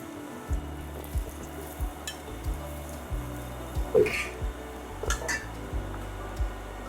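Hong Kong style crispy noodles with pork frying in oil in a pan, with a steady close sizzle and a regular series of spatula scrapes and clinks against the metal.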